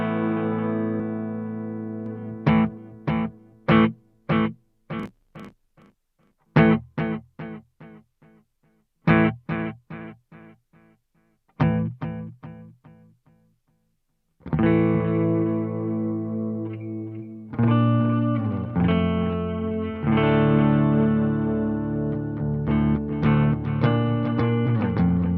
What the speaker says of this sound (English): Delay number 5 is a digital delay.